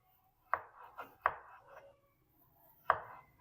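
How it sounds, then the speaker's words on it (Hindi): A knife cutting potatoes into round slices on a board, three crisp thuds with a few softer taps between them, close and clear against near silence. "तो तीनों आलूओं को मैं इसी तरह से काट लूंगा।"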